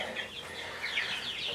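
Several chickens, meat birds kept on a small half-acre homestead, cluck and call in a busy, continuous jumble at moderate distance with no talk over them.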